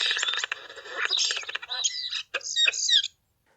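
Starling song used as an experimental stimulus in AABB form: two fluttery, rattling chirp phrases followed by two longer, stretched whistled notes, close and clear, ending abruptly in silence.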